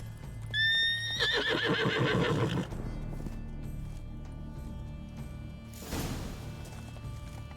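Roach the horse in The Witcher 3 gives a loud, close whinny that rises and trembles for about two seconds, followed by hoof clip-clops and a short snort or shake later.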